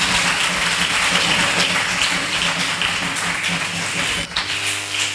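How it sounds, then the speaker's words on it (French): A church congregation at a Christian convention applauds together, a dense sustained wash of clapping that holds steady and loud throughout, with a low hum and possible background voices underneath before it thins out near the end. "Acclamons le Seigneur."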